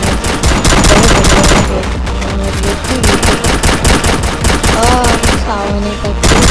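Loud, close gunfire in the Lone Wolf mode of a shooter video game, dense rapid automatic bursts that rattle almost nonstop, broken by short pauses and a few weapon or effect tones near the end.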